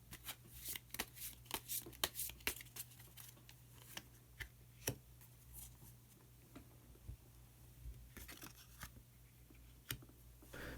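Tarot cards are shuffled and drawn from the deck, with soft, crisp riffles and snapping flicks in uneven bursts, close and quiet with no voices.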